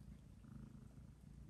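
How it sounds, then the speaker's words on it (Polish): A cat with an ear infection purring softly and steadily up close, a low rhythmic rumble heard alone without talk. "Kto tak pięknie mruczy?"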